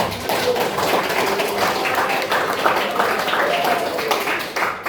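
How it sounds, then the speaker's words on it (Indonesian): Students in a vocational high school classroom in Bekasi give a steady burst of dense, close applause lasting several seconds, with voices mixed in. "Tepuk tangan dulu."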